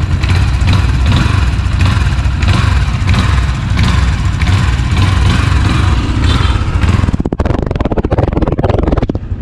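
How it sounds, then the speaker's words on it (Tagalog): A Yamaha Sniper 155 motorcycle engine runs loud and close, a rough buzzing idle with throttle blips that swell and fall back, then cut off near the end. No one speaks. "Yan yung andar ng kanyang engine. I-rev ko ng konti ah."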